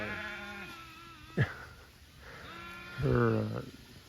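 Sheep bleat in wavering, nasal calls, one near the start and a louder, longer one near the end, with a short thump between and quiet rustling outdoors.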